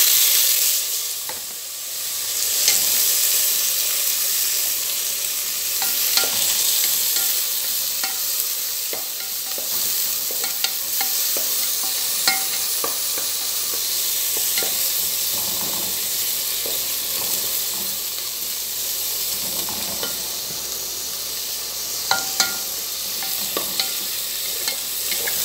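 Fish and tomatoes sizzling in a pan while being stirred, a continuous loud frying hiss with frequent scraping and clinking of the utensil against the pan, no talking.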